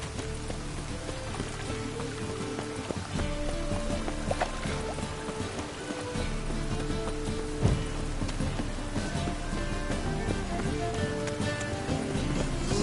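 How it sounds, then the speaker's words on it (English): Steady rain falling in the video game The Witcher 3, a constant soft patter with no break, heard alongside faint background game ambience. "Must be mad running around in this rain."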